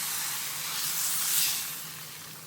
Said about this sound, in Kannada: ಈಗ ಈ ಒಗ್ಗರಣೆಯನ್ನು ಇದಕ್ಕೆ ಹಾಕೋಣ.